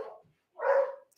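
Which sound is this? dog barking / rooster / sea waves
dog barking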